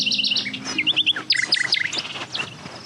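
In the Sonar Islands video game, a bird chirps close and clear, repeating quick bright tweets and short whistled phrases throughout.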